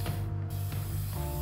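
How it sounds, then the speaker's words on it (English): Spray paint hissing in the video game inFamous: Second Son, a steady broadband spray over sustained tonal game music. "we just spray paint all over it"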